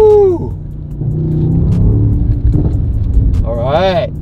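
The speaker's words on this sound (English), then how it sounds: "So the pops and the bangs are definitely more noticeable. It's a little bit thicker. The growl is there. It rumbles a tiny bit, but not too loud." Car with a Kline stage 1 exhaust rumbles at low revs while driving, a thick steady growl with a few sharp pops, and people can be heard speaking over it at the start and end.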